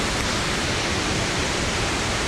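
Hulu Ganga waterfall near Kandy, running full with plenty of water, gives a steady broadband roar. It sounds close and even, with no voices over it.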